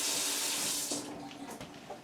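Tap water runs steadily into a sink during hand washing at a meat prep station, a loud continuous gush that eases slightly partway through, with no talking.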